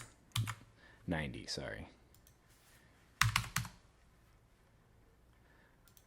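A few short bursts of computer keyboard typing tap out numbers at close range, separated by quiet pauses, with a voice speaking briefly between them.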